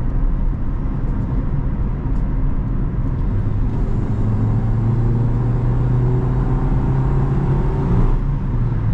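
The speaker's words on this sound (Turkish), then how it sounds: "Ama motor sesini falan duydunuz mu?" A Honda Civic 1.6 engine hums loudly and revs up, its pitch rising steadily before dropping back near the end.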